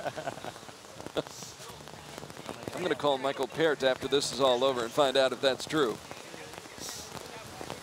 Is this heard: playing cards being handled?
no